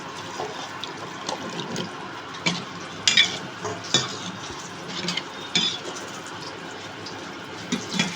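Potatoes go into a pan where pui shak greens are cooking, giving a soft steady sizzle with scattered clinks and scrapes of a utensil stirring against the pot, close and fairly quiet.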